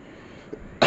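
After a near-silent stretch, a single harsh, raspy cough from the granny character in the video game Granny bursts out abruptly at the end.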